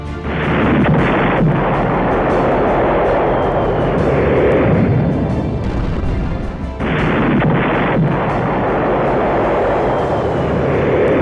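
Drone-dropped bombs strike targets at Horlivka in Ukraine during war footage. A loud, sustained roaring blast noise fills the whole stretch, with a few sharp cracks and a brief dip before the roar resumes.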